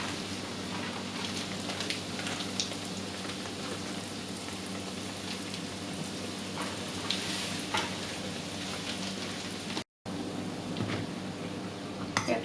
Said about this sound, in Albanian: Petullat janë skuqur plotësisht, i nxjerrim nga vaji